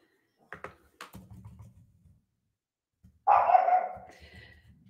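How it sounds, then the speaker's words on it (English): A dog barks a few sharp times close by, then gives a louder, longer bark or yelp after a short pause, with nothing else in the background. "we picked this night to be as barky as possible for Tucker"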